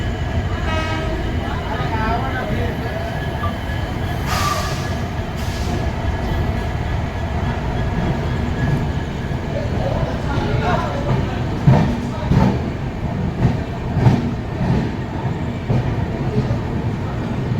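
A diesel locomotive engine rumbles at a railway station at night, a steady low throb with a few brief horn toots and clanks rising over it, while voices talk nearby.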